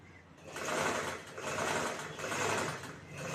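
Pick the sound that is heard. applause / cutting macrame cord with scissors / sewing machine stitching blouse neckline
sewing machine stitching blouse neckline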